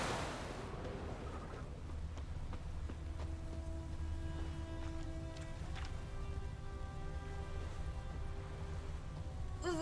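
Steady rain falls in The Witcher 3: Wild Hunt, a constant soft hiss with no gaps, joined by faint tonal game ambience, all fairly quiet and with no voices.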